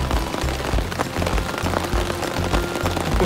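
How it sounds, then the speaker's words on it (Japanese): Rain falls steadily on a tarp at a riverside camp, a dense close patter with irregular louder drops and low thuds throughout, no voices over it. "めちゃめちゃね、雨降ってて、"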